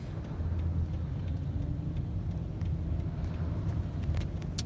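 Slow crawling California city traffic heard from inside a car, a steady low engine and road rumble with faint clicks and rattles, continuous and moderately quiet.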